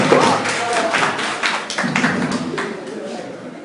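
Students in a classroom clap for a right answer, a burst of dense, close clapping that starts strong and gradually thins out.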